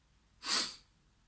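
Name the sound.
narrator imitating a sniff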